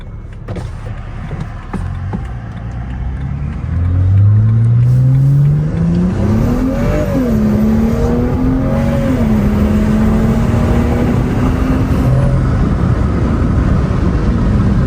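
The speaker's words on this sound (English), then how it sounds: "I mean, a lot more turbo noise too of it just letting off." A BMW N55 turbocharged engine in an E9x fitted with an ARM Motorsports short intake and an aftermarket Turbosmart plumb-back blow-off valve, loud and close, idling and then revving up in a rising climb, with turbo whine through the pulls.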